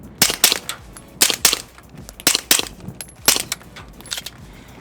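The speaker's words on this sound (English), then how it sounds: "this suppressed pistol sounds so cool" Several muffled shots from a suppressed ZEV Tech OZ9 HyperCOMP pistol fired into a berm, in uneven pairs and singles, each a short sharp crack with a dull thud, fairly close with quiet gaps between.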